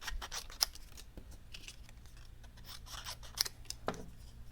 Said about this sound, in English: now I'm going to go ahead and cut these out with my paper snips